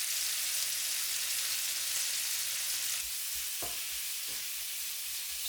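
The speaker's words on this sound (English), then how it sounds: "While the bacon is frying" Diced bacon frying in a pan, a steady dense sizzle throughout with a couple of brief knocks near the end, close and fairly loud, with no voices.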